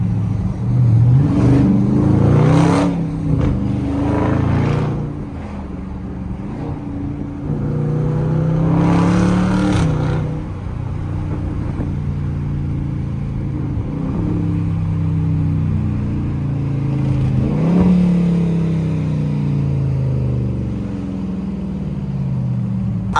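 A stage 4 cammed Chevy SS engine revs hard while driving, with loud, rumbling exhaust surges that rise and fall repeatedly over a constant road drone.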